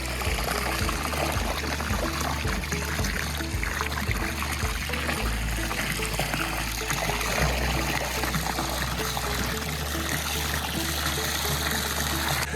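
Acid being poured into swimming pool water around the perimeter, a steady trickling, splashing pour running continuously at close range with no talking.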